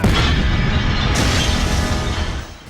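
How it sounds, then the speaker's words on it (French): An old television is blown up in a loud, sustained boom with a roaring blast and rumble that stays heavy for a couple of seconds before tapering off. "Moi, je vais faire exploser ma vieille télé."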